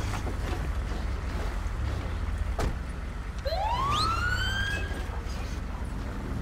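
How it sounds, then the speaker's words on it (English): A rising siren sweep from an ambulance in Grand Theft Auto V, swelling upward in pitch over a constant engine and traffic rumble, moderately close. "The ambulance looks like they're trying to get through."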